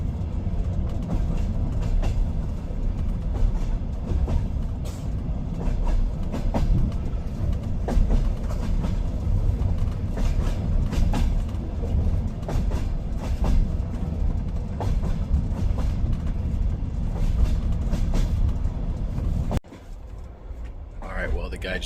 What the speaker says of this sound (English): So if you're riding this train, I would maybe recommend bringing a power bank